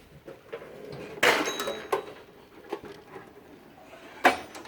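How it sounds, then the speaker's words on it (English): Drawers of a Harbor Freight metal toolbox being pulled open, heard as a few separate metallic clunks and slides spread across the span, with quieter rattles between them. "we're gonna open all of the drawers"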